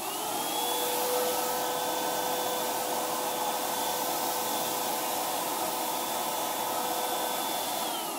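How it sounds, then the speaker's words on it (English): A small Wagner furniture sprayer runs with its vacuum-style motor engaged, giving a steady, fairly quiet whine and hiss with a faint high tone held throughout. "this is going to be noisy because I got my little vacuum engine on here"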